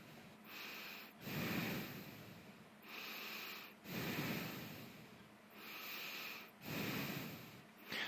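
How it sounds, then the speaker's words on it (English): Heavy breaths blown close into a microphone come in a slow regular rhythm, four loud breathy bursts with short quiet gaps, each a rough hiss. "that was obviously louder breathing than I would usually have"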